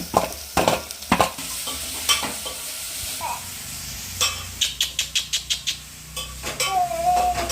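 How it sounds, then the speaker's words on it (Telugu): Onions and tomatoes fry in a pan while being stirred, with a spoon scraping in repeated strokes over a steady low sizzle. The scrapes come close and fairly loud, in a quick run of short strokes near the middle. "ఉల్లిపాయలు అయితే బాగా ఏగినాయి కదండి టమాటాలు కూడా వేసుకొని వేయించుకుందాం"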